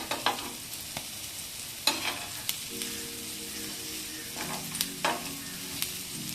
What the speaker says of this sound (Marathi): सगळ्या पलटी करून घेऊया एका बाजूने शिजले